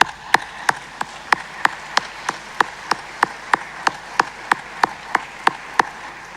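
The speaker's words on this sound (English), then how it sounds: "Seniors, please take this moment to show your gratitude by giving them all a round of applause." At a high school graduation ceremony, sharp claps ring out in a regular, evenly spaced rhythm of about three per second, fairly faint over quiet room tone, like one pair of hands or a slow, synchronized clap.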